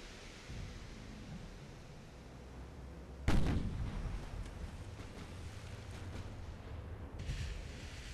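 Warship main guns fire in the naval video game Ultimate Admiral: Dreadnoughts: one loud sudden boom that rolls off into a long rumbling decay, a fainter shot following later over steady low background noise.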